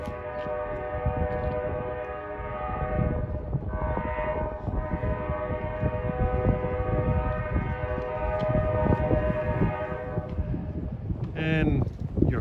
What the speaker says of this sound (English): heard the horn of F40PH2 Cat 4119 on train 1109 for Suffern